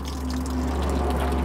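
Dirty water pours steadily out of a drilled hole in a cheap salvage boat, a continuous rushing flow with a low hum beneath it and no pauses.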